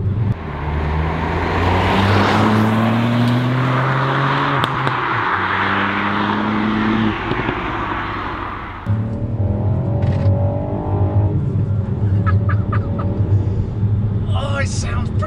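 A Ford Puma ST driving at 60 mph on an open road, with steady engine drone, tyre roar and rising and falling gear-pitch tones throughout, plus a brief lull and shift partway.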